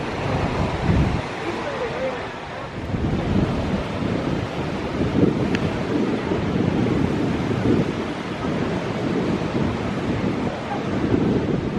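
Beach surf at Seaside, Florida rolls in under gusty wind buffeting the microphone, a steady loud wash of broadband noise with a faint voice now and then.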